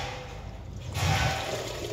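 Water rushes and gurgles steadily, swelling louder halfway through, like a strong flow draining away nearby.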